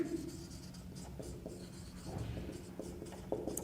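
Marker or chalk scratching and rubbing across a board during a math lecture, continuous strokes with short pauses, close and fairly clear, with no speech.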